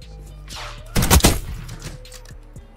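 A short, loud burst of several rapid gunshots from Black Ops 6 multiplayer combat cracks out over a low, steady background of game ambience.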